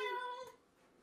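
A cat lets out a single short meow nearby during chocolate cupcake baking, clear and tonal before fading into quiet room noise.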